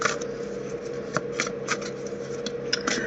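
Tarot cards being shuffled close up: a quick run of papery riffles and soft slaps, crisp and near with no talking.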